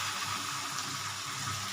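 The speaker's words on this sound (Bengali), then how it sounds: "আর এই যে মশলার জলটা এবার আমি দিয়ে দেবো" Spiced water poured into a pot of Bengali chicken curry, a steady broad watery rush that stays loud and unbroken throughout, with no voices.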